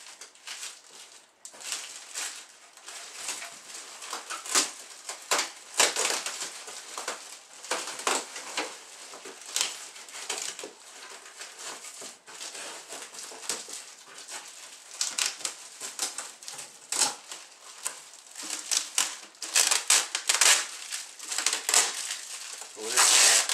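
RC airplane kit parts for a Beechcraft Baron G58 model are unwrapped from heavy tape, giving close crinkling, rustling and sharp tearing bursts that keep going and grow busier toward the end, with occasional brief speech.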